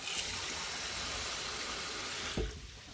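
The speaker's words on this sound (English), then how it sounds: "All right, add some hot water." Hot water poured from a tap into a cooking pot of potatoes and chicken broth, a steady loud gushing stream that cuts off with a clunk near the end.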